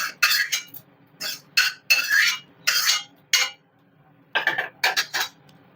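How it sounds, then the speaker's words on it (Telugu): A metal spoon scrapes fried tempering from a pan onto a plate, giving about ten distinct clinks and scrapes in bursts with short pauses between them, close and clear. "ఈ పోపుని మనం ఈ ప్లేట్లోకి తీసేసుకుంటాం"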